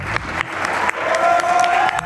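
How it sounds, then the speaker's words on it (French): Scattered applause from a small crowd at a belly-flop diving contest, with several sharp claps rising and falling over a couple of seconds amid background chatter. "ça applaudit un peu tout et n'importe quoi"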